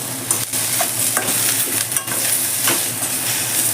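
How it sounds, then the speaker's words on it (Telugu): Onions fry in a pan with spices and nigella seeds for a fenugreek paneer masala gravy, making a close, steady sizzle broken by repeated scraping and stirring clinks, with no talk. "ఉల్లిపాయ పర్లేదు, వేగిపోతుంది అన్నమాట."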